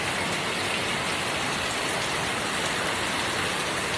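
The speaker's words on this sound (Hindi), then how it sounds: "जोरदार वरसाद पड़ी रही है" Heavy monsoon rain pours down outside a home, a dense, unbroken roar of droplets that sounds loud and close. The downpour holds steady throughout with no voices.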